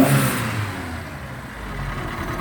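1970 Ford Escort Twin Cam engine revving up sharply at first, then settling into a steady, close mid-pitched idle with a faint rise at the end.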